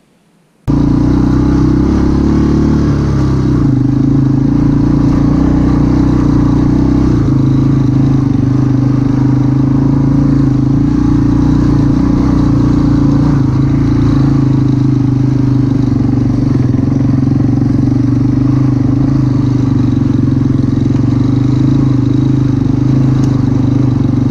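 A motorcycle engine runs steadily and loudly up close in low first gear, creeping along slowly with a constant throaty rumble and slight shifts in pitch throughout.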